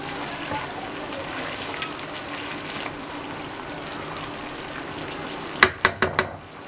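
Vegetable noodle pulao is stirred in a frying pan, a continuous wet sizzle and scraping that ends with four sharp metallic knocks of the spoon against the pan.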